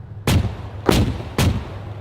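Three heavy cannon shots from a Badger infantry fighting vehicle crack out in an even rhythm about half a second apart, each a loud, booming burst trailing off into rumble.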